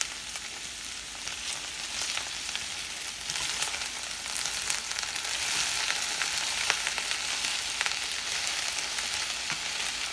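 Okra fries in a skillet on high heat, a steady bright sizzle with crackling pops running continuously at moderate level, no voices.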